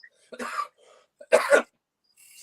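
Three separate coughs, close and fairly loud, the middle one the strongest, with short silences between them.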